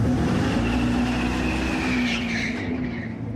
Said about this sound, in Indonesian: Dan meski suara dan bau karet bannya nyata, tapi ciri khas suara knalpotnya adalah buatan.